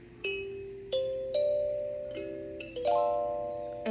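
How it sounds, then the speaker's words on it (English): A flatboard kalimba is plucked note by note, about seven bright, clear, bell-like tines ringing out and decaying slowly, with later notes layering over the fading earlier ones at moderate volume. "So a flatboard kalimba has a moderate or medium volume."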